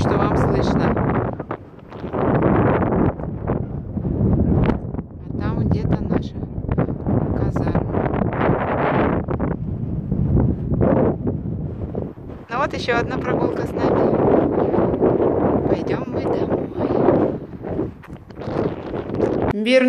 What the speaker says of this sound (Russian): Ветер, надеюсь, что вам слышно.